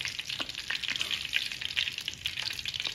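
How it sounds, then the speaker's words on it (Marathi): Whole bunches of mint leaves fry in hot oil, crackling and sputtering in a continuous busy sizzle with small pops, close up and with no talking. "असं आपल्याला ही अख्ख्या सगळ्या जुड्या व्यवस्थित तळून घ्यायचे."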